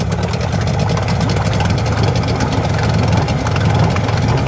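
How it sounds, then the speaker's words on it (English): An outboard motor on an abandoned boat project runs loudly and steadily close by, with a constant low engine drone and buzzing from start to finish. "show you guys it's running and it's pumping water."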